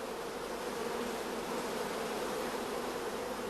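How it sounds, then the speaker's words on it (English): A queenless honeybee starter colony of orphaned bees gives off a loud, steady, unbroken buzz, close and even throughout with no voices. "in the queenless starter colony, we can hear the loud buzzing of the orphan bees"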